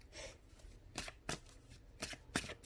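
Tarot cards are shuffled by hand in several quick riffling bursts, close and crisp, with soft rustling between the sharper shuffles.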